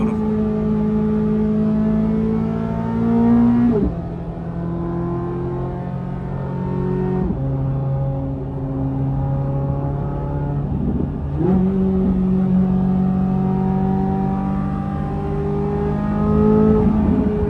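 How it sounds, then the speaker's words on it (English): A Corvette C8 Z06 engine drones loudly at speed on a late-night drive, with sharp rev blips and pitch drops at several downshifts, heard close from inside the car with no talk. "The downshifts on this car are so aggressive."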